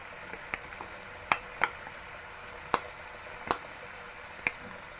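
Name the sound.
shrimp frying in pan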